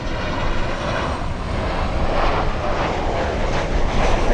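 An American Airlines airliner at Miami International Airport roars with a loud, continuous engine rumble and broadband jet wash, steady and close, with no talking over it.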